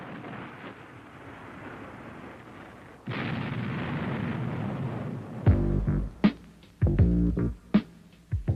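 Laser-guided weapons launch from aircraft, with a low rumbling roar, then a louder sustained blast, and finally several heavy booming explosions with crackling debris. No one speaks.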